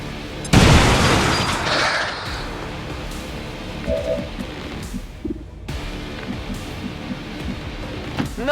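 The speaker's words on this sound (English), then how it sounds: "Throwing grenade!" A grenade goes off in the video game XCOM 2, a loud close boom that rolls into a long rumbling tail and debris, followed by lighter battlefield rattles and faint pops.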